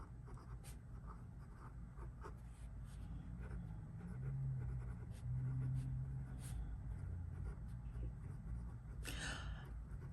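Leonardo Momento Zero fountain pen with a fine nib writing on paper, faint close scratching strokes throughout with soft breathy murmurs, fairly quiet.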